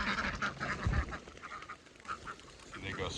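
Domestic ducks by a backyard pond, quacking in scattered bursts at moderate distance, fairly faint, with outdoor background noise throughout.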